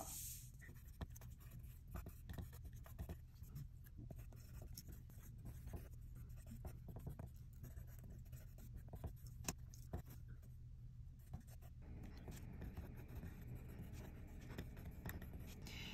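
Faint, soft scratching of a pen or pencil writing by hand on paper runs continuously over a quiet hiss, close but very low in level.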